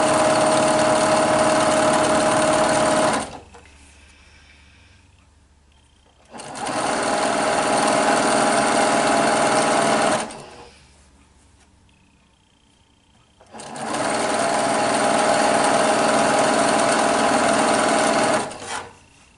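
A sewing machine stitching quilt pieces together, running loud and close in three long steady bursts of about three to four seconds each, with quiet gaps where it stops.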